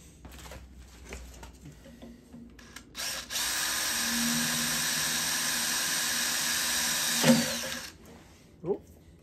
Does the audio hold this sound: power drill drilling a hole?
yes